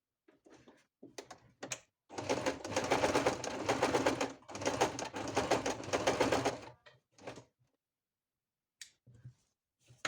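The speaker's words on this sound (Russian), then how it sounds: "Давайте будем сразу здесь прокладывать строчку, как бы декоративную." A sewing machine runs a decorative stitch line on a patchwork block, two steady buzzing runs of rapid mechanical stitching separated by a brief pause, framed by faint clicks and fabric handling.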